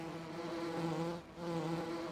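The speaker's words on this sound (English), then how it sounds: "I just hope I don't get stung by these bees" Bees from the beehives in the video game Farming Simulator 17 make a steady, droning buzz that holds at a moderate level with a brief dip midway, with no talking.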